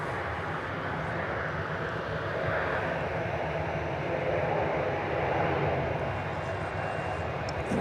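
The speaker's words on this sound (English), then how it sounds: "That's Qatar Flight 730. It's an A350-1000." Qatar Airways Airbus A350-1000 taxiing at DFW airport, a steady broad jet-engine rumble and whine that swells slightly as it turns, with faint talk underneath.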